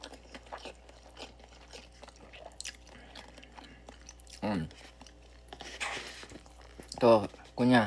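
Close, wet chewing and crunchy bites during a chicken mukbang, in irregular bursts with soft mouth sounds and some talking.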